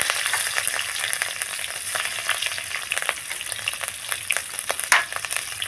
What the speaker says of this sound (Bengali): আমি দিয়ে দিচ্ছি কাঁচা লঙ্কা তেলের মধ্যে।